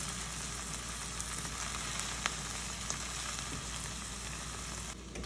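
Onions and other vegetables frying in a pan, with shrimp about to go in, make a loud, steady close sizzle and crackle that runs unbroken with no voices.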